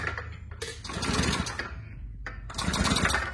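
A small engine with a broken crankshaft end turns over while its wheel spins and the piston moves up and down, giving a close, continuous mechanical clatter that swells slightly midway.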